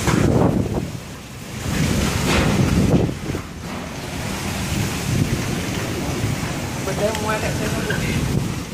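A strong typhoon wind in Taiwan roars and buffets the microphone loudly and without pause, with gusting surges and a deep rumbling undertone.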